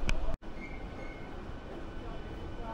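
A passenger train departing from a platform: a steady low rumble of rolling carriages with faint wheel and track noise, heard from on board after a brief click near the start.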